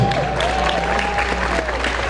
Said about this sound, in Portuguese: Você pode aplaudir o nome do Senhor.